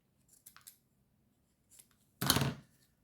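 Scissors cut card stock for a handmade card: a few soft light snips near the start, then one louder, longer rasping cut close by, with no talking.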